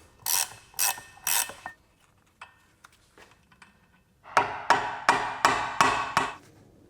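A ratchet wrench loosens bolts on a Mercedes E55 AMG. It opens with three sharp bursts of clicking, goes quieter with a few light taps, then gives six loud, evenly spaced ratcheting pulls close by.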